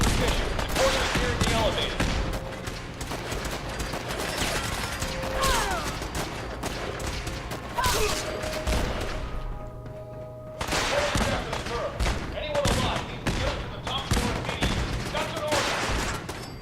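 Rapid bursts of gunfire from the video game Fallout 4, dense and repeated throughout with mechanical clatter, briefly dropping out near the middle before resuming, with a voice speaking over it.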